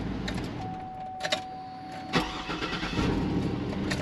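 A State Trooper police car's engine starts: a brief starter crank followed by the engine catching and settling into a steady idle, up close, with a faint chime tone during cranking.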